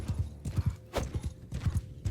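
Horse hooves pound in a quick galloping rhythm in the medieval combat game Mount & Blade II Bannerlord, with repeated close thuds in clusters and a faint snort, no voices.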